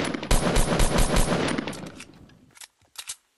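Rapid automatic gunfire in Fortnite as a player shoots at a tree, loud and continuous bursts for about two seconds, then a few short separated shots after a brief pause.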